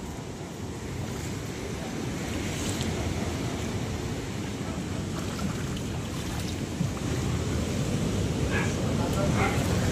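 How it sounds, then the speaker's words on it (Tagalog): Big ocean waves surge and break near the shore where boats are moored, a continuous loud roaring wash with wind buffeting the microphone and a few distant sounds over it. "Grabe, talagang taas na naman po ng alon."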